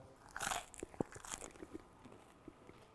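Crusty sourdough baguette bitten and chewed up close, with a sharp crackling crunch at the first bite followed by scattered softer crumbly crackles of chewing, quiet and without talk.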